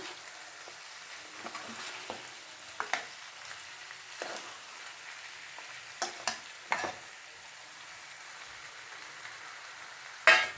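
Chopped tomatoes sizzle and fry in a pan for a pepper chicken gravy, a steady close crackle with scattered sharper spits and stirring scrapes, no voices.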